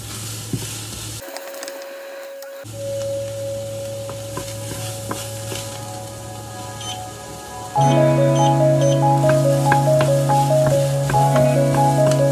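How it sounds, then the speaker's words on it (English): Onion fries in coconut oil with a soft continuous sizzle and occasional clicks, broken by a brief dropout. Loud melodic tones then come in and largely cover the frying. "Using this coconut oil to fry it, to fry the onion."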